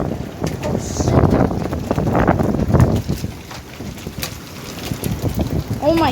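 Strong wind roaring and buffeting the microphone during a hail storm, a steady rushing blast with gusty swells throughout, while excited voices talk over it.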